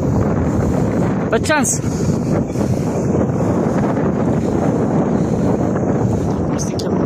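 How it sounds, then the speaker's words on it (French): Strong wind buffets the microphone at a seaside marina in Elche, a loud continuous rumble throughout, with a person speaking briefly over it. "Et il y a du vent, je l'ai de face, comme par hasard."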